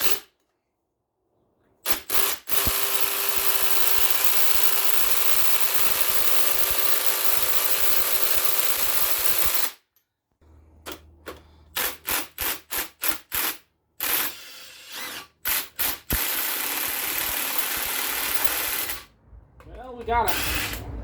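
A tool works the strut nut on a 2004 Oldsmobile during a front strut replacement, with long loud mechanical runs followed by a series of short bursts and gaps, close up, and a voice speaks near the end.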